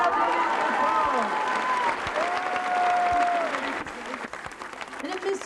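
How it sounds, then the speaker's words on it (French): Enthusiastic audience applause at a 1995 circus gala in Sully-sur-Loire, France, a loud clapping crowd under a held musical tone that thins out toward the end. "On applaudit très fort."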